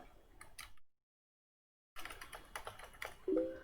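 Keys on a computer keyboard are tapped in faint, quick clicks close by. A silent gap breaks the typing before it resumes, and no one talks.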